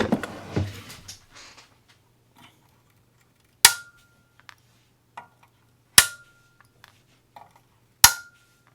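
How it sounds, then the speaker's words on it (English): Snips or cutters clip soldered component pins on a VIC-20 circuit board, producing three or four sharp, isolated snaps spaced a couple of seconds apart after some brief handling noise at the start, close and quiet otherwise. "Chop those pins off of there."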